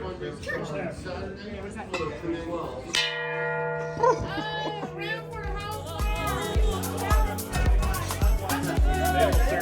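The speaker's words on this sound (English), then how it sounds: "Can I ring the bell?" A bell rung aboard a sailboat moored at St. Augustine, a sustained ringing tone from about three seconds in, with people talking and calling out cheers around it.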